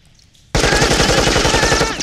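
A loud, close burst of rapid machine gun fire in a Battlefield-themed animated battle, a sustained rattling stream of shots breaking in suddenly after a quiet moment.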